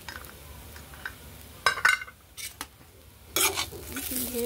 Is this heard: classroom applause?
no